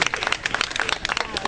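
An audience at an outdoor summer show in Thionville claps, a short, uneven patter of scattered hand claps that comes across as moderately close.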